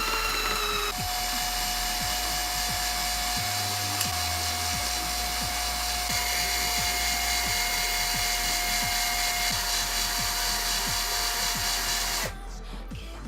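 A high-pitched rotary tool whines steadily as it grinds out and enlarges a hole in a part for an APS M4 airsoft rifle. The sound is close and continuous with brief changes in load, then stops near the end.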